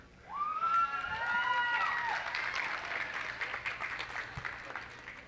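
Audience applause at a college African American male leadership symposium, a crowd clapping steadily for several seconds after a name is called, with cheering and whoops mixed in near the start.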